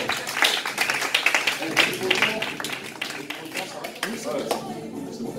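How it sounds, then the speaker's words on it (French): A church evangelism event audience applauding to encourage a man, dense rapid hand clapping sustained throughout, fairly close and busy, fading slightly at the end with some voices mixed in. "Alors là, vous pouvez l'applaudir parce qu'il a besoin d'encouragement."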